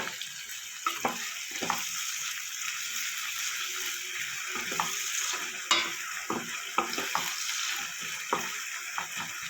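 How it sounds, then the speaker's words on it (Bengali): Onions with a little salt fry in a pan, a soft continuous sizzle broken by irregular scrapes and clinks of stirring, with no talking. "পেঁয়াজটা ভাজা হতে থাক"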